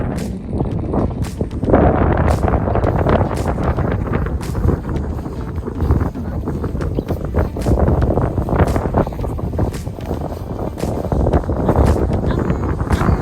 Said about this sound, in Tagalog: Lakas din talaga ng hangin, no?